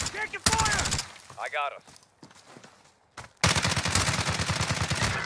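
Gunfire in a first-person shooter video game crackles in a dense, loud burst of rapid shots at the start and again through the final two seconds, with someone speaking briefly between the volleys.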